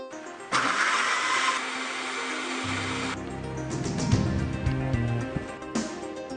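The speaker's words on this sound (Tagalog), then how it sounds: "Hiwain lang ito at saka i-blender." A blender whirs loudly and steadily as it purees chopped potato, its motor pitch shifting as the contents churn, with no talking.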